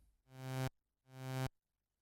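Two synthesizer notes with a high envelope attack, each swelling slowly from near silence to full level over half a second before stopping abruptly, quiet and played alone.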